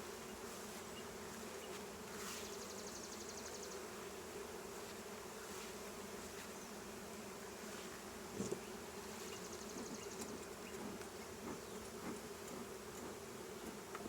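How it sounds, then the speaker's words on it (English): Steady, dense buzzing of many honey bees close by during a hive inspection and honey harvest, a constant drone with occasional individual bees flying nearer. "Lots of bees."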